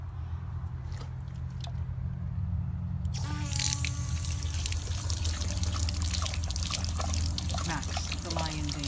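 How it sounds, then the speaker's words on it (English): A Great Dane in a lion-mane Halloween costume laps water from a running outdoor tap, with a steady stream of water and wet lapping and splashing sounds that grow busier partway through. "Max, the Lion Dane, enjoying a drink of water."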